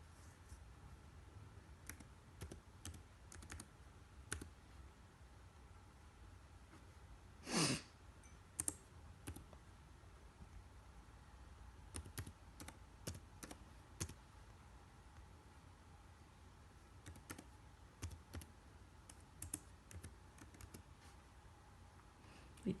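Quiet typing on a computer keyboard while entering a new employee's details into a form, sparse irregular key clicks with short bursts and pauses, close but soft, with an occasional faint breath and no talk over it.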